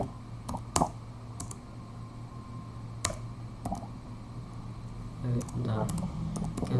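Keys tapped on a computer keyboard while typing code, scattered sharp clicks then a quicker run near the end, close and clear under a steady background hum and a voice.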